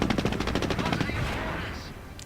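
Rapid bursts of machine-gun fire rake a forward barracks in the Company of Heroes strategy game, a dense rattling volley that fades over about two seconds under faint background noise.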